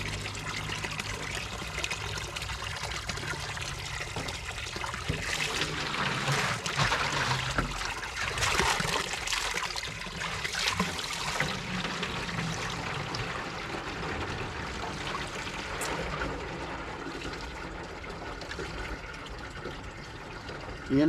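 Spring water trickles and splashes steadily as water is fetched from a free spring source, a continuous close liquid wash with faint background sounds.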